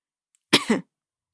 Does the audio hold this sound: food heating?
no